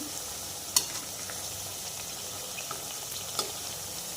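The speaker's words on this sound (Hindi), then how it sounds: "मेथी के बड़े को हम पलट लेंगे और हमें मेथी के बड़े को मीडियम गैस पे ही फ्राई करना है।" Methi vadas (fenugreek fritters) frying in oil on medium gas, a steady soft sizzle with a couple of sharp clicks from turning them.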